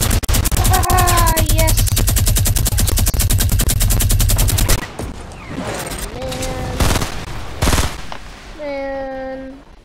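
In the video game Fortnite, a minigun fires a dense, continuous burst for about five seconds, loud and close, followed by excited shouting and other game sounds.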